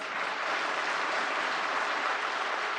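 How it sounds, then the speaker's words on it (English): Steady applause from an audience at a formal government ceremony honoring guests, dense and continuous with no pause throughout. "Can we please have one last resounding round of applause for our esteemed guests?"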